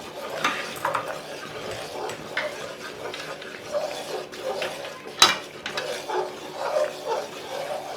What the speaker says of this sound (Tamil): வச்சுட்டு கைவிடாமல் கிண்டுங்க.